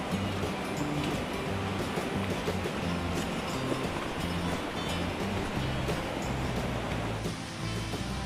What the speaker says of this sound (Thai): และสำหรับลำธารแห่งนี้นะครับ ก็เป็นลำธารก่อนที่จะถึงจุดชมน้ำตกสลัดใดแล้วครับ